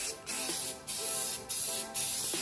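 Aerosol spray paint bursts in gloss black onto Enkei RPF1 wheels, four steady hissing passes of about half a second each with brief gaps between, close and fairly loud for a heavy final coat.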